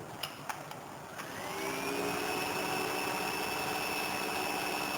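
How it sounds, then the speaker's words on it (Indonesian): A small cooling fan on a Peltier water cooler starts up when power is connected, spinning up after a few light clicks into a steady, close, continuous whir with a faint rising tone. "Ini terlihat kipas langsung hidup."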